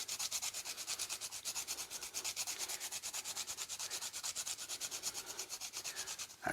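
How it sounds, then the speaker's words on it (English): Whole nutmeg rubbed against a small fine grater in a kitchen, giving a steady rhythmic scratching of quick, evenly spaced strokes, close and fairly soft, with no voices. "grate a bit of nutmeg in"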